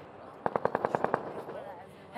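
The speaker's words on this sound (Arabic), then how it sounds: "في صوت رصاص كتير قوي من جوا" Heavy automatic gunfire rings out from inside a neighbourhood: a rapid burst of about eight sharp shots in quick succession, moderately loud, then fading into a low background murmur.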